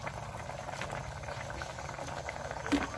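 Buffalo beef soup bubbling in a pot, a steady close simmer of soft popping and liquid patter that keeps an even level throughout, with no voices.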